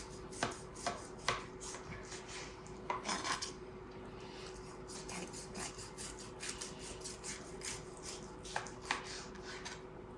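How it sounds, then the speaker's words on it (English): A knife saws through a grilled New York steak on a plate, giving repeated light scraping and clinking strokes of metal against the dish in an irregular rhythm, close and fairly quiet. "Now I'm just going to cut a bit of the steak for you so you can see just how the steak is going to turn out."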